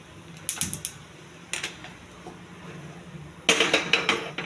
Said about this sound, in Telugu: స్టవ్ వెలిగించి కుక్కర్ పెట్టాలండి